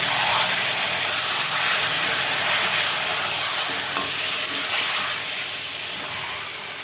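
Chicken and potatoes, marinated in salt, turmeric, onion, ginger and garlic paste, frying in mustard oil with onion and bay leaf, giving a loud, continuous, close hiss and sizzle that eases slightly toward the end.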